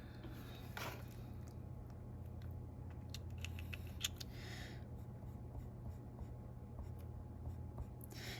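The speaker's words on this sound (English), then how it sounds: "So I'm going to draw a little graph." A pen scratches and taps on paper while drawing a small graph. The strokes are quiet, short and irregular, with brief pauses between lines, heard alone with no voice.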